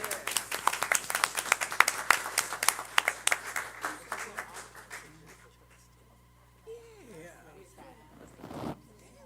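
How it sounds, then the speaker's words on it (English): A crowd claps at a school board of education meeting, a dense burst of applause for several seconds that thins out and fades, followed by quieter room sound and a few voices. "let's give Mia another round of applause"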